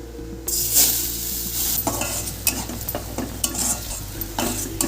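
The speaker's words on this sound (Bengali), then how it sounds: "এবার এর মধ্যে দিয়ে দেবো বেটে রাখা থোর কাঁচা লঙ্কা আর ধনে পাতা" Ground banana stem, green chillies and coriander leaves hit hot oil tempered with nigella seeds, then sizzle loudly under repeated metal scrapes and stirring clatter in the pan.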